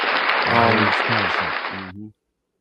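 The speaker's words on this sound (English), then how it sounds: "let's give her a round of applause for that, Johnny." A round of applause from a small audience at a sit-down interview, brief clapping that swells and then cuts off abruptly, with voices talking over it.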